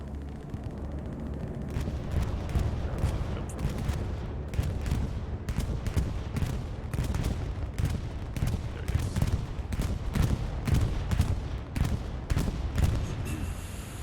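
Distant, rumbling gunfire and bombing in the Hell Let Loose war game, with sharp shots crackling over a continuous low battlefield roar.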